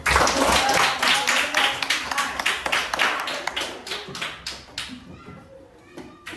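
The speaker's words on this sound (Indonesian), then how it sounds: "Oke, kita beri dulu tepuk tangan." A class of schoolchildren claps in a classroom, loud and quick at first with sharp overlapping hand claps, then thinning into scattered individual claps that fade toward the end, with faint children's voices underneath.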